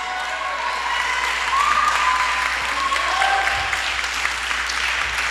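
A congregation at a church service claps together in a steady, sustained wash of applause that holds evenly for several seconds, fairly loud and close. No voices rise above it.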